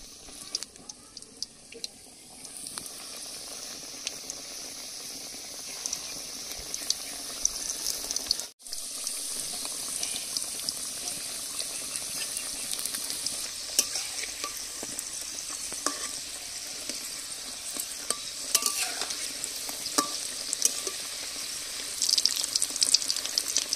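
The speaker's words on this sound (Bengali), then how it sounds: "তেল গরম হয়ে গেছে, এবার পরোটাগুলো ভেজে নেব।" Mughlai paratha fries in hot refined oil, a steady hissing bubble dotted with sharp pops and crackles that continues for a long stretch, with a brief dropout partway through.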